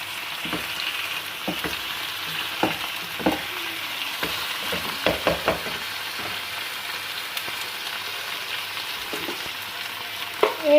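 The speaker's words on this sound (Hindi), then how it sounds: "ये मैं प्याज़ों में डाल दूंगी, प्याज़ों के साथ इसको मैं फ्राई करूंगी।" Chicken frying with onions in a karahi, a steady close sizzle under occasional clacks and scrapes of a spoon stirring the pan.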